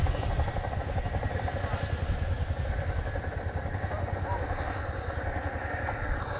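An RAF Chinook HC.6A twin-rotor helicopter performing a flying display at RIAT, its rapid steady blade thumping loud and continuous, with a voice talking over it.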